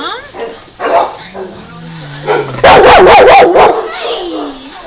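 Dogs at an animal shelter bark in a loud burst of several sharp, close barks, with whines and yips before and after and someone speaking softly nearby.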